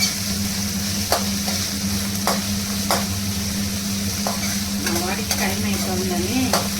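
Cauliflower (gobi) fries in a pan with a constant close sizzle, punctuated by sharp spatula knocks and scrapes at irregular intervals.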